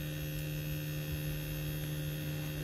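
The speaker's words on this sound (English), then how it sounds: "The compressor is working very excellently well." A solar-powered 48-volt DC compressor on an ice block machine runs with a loud, steady electrical hum and constant drone, close and unbroken, with no talking.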